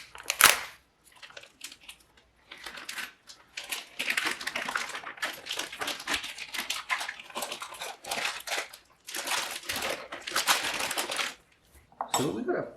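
Packaged wagyu brisket being sliced open with a knife for trimming: bursts of crinkly plastic tearing and cutting scrapes come in irregular runs, close and fairly loud, with short pauses between them.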